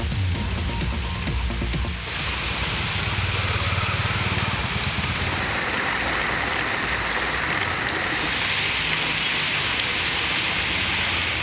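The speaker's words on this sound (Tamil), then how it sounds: "மதுரை மாவட்டத்தில் திருமங்கலம், திம்மக்கல், அவனியாபுரம், மாட்டுத்தாவணி உள்ளிட்ட பகுதிகளில் கனமழை வெளுத்து வாங்கியது." Heavy rain pours down across Madurai, a dense, loud, continuous patter on surfaces that shifts character partway through, with a faint engine-like rumble underneath and no voices.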